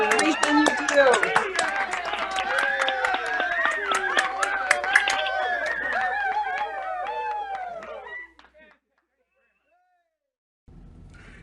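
Audience applause at a Unity Rocks livestreamed community event: dense clapping mixed with cheers and excited voices, loud and close, then it cuts off abruptly into near silence.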